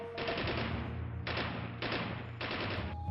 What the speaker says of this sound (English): would unleash a murderous barrage of artillery, mortars, and machine gun fire on the exposed Marines